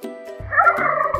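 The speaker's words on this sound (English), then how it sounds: "Turkey." A domestic turkey gobbles in one loud, close, rapid warbling burst, heard alone.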